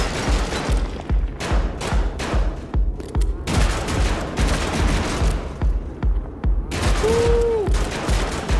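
Rapid double shotgun blasts in a first-person shooter video game, dense repeated gunfire bursts filling the whole stretch, loud and close, with brief pauses between volleys.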